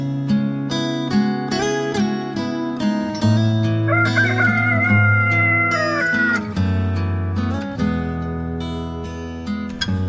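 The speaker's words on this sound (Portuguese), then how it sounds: "o galo canta a terceira vez" Rooster crowing set against a musical backing, a drawn-out wavering call rising and falling over several seconds, loud and close amid sustained instrumental tones.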